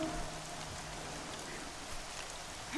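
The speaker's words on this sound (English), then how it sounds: "Okay, rain, please stop." Steady rain falls in the Horizon Zero Dawn game world, a soft, even hiss of drops on surfaces that runs unbroken and fairly quiet throughout.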